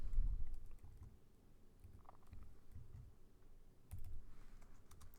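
Java code being typed on a computer keyboard, soft, quick clusters of key clicks in irregular bursts over a low background rumble.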